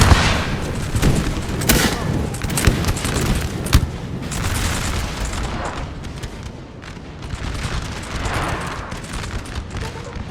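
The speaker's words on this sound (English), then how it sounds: "And the Austrians are getting blasted by artillery." Dense artillery booms and crackling volleys of musket fire in a Napoleon Total War multiplayer battle, continuous and loud, with overlapping blasts and rattling gunfire throughout.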